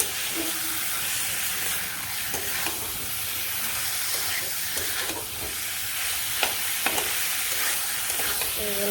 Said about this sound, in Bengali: মশলাটা ভেজে নিচ্ছি এর মাংসটা দিয়ে দিই সাথে পেঁয়াজ দিচ্ছি